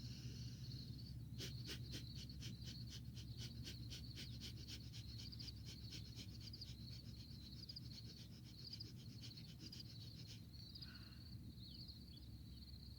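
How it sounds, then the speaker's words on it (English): Rapid, rhythmic panting breaths from the belly through the nose repeat in a quick steady pulse for about ten seconds, close and fairly faint, alongside a high steady tone and low hum. "you're really panting from your belly through your nose"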